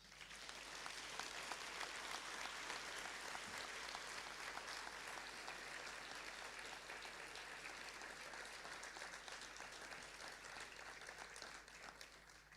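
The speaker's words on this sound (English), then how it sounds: "I want all of you to please give them a massive round of applause." Sustained applause from a large graduation ceremony audience rolls on continuously for over twelve seconds, broad and even but fairly distant and quiet.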